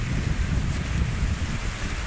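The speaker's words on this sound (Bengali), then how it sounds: "প্রচুর বাতাস হইতেছে, বৃষ্টি পড়তেছে, মোবাইলে পানি ঢুকতেছে।" Strong wind roars and buffets the phone microphone during rain beside a graveyard, a steady low rumbling gust with a wash of hiss on top, loud and continuous with no speech.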